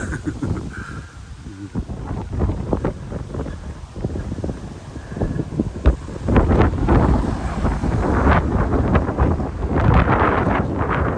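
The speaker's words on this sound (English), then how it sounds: "Bit breezy than I thought. Blowing my hat off." Strong, gusty wind buffets the microphone in an open hillside setting in the Peak District, roaring in uneven rushes and growing heavier toward the end, with no clear talk over it.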